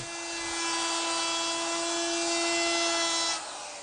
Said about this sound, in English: Here I'm taking a piece of poplar and chamfering the edge with my chamfering bit